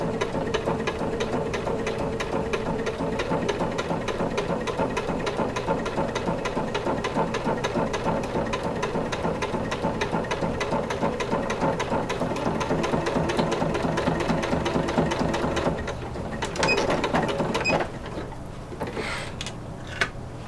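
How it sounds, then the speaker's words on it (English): A sewing machine stitches curved coutil casings for corset bones at a slow, steady pace, its needle chattering evenly for about fifteen seconds before a brief pause and a few lighter, uneven runs near the end. "Obviously I have to stitch much slower this time."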